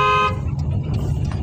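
A car horn gives one short loud honk at the start, followed by the low rumble of a car driving on a city road, heard from close by inside the vehicle.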